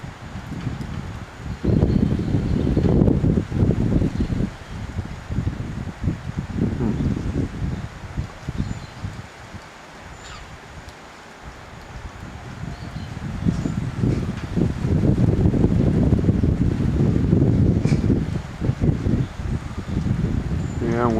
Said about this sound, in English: once again, it's a windy, rainy day here in Costa Rica